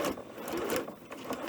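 A sewing machine stitches a leader onto the shoulder seam of a knit dress in a rapid, steady mechanical chatter, close and continuous for the whole moment with no talking.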